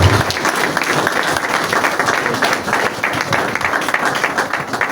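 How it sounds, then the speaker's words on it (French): An audience applauds at an evening awards gala, with steady, dense clapping filling the room throughout and a few voices mixed into the crowd. "Est-ce qu'on peut acclamer, on peut applaudisser?"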